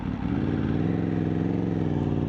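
A motorcycle engine running steadily while riding on a hot day, the bike struggling in the heat, with a continuous close drone and strong low rumble plus some wind noise.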